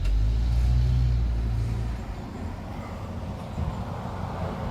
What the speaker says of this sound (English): I'm gonna leave you guys with this traffic, whatever it may be